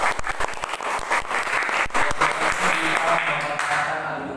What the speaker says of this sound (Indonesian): Kasih tepuk tangan lagi dulu.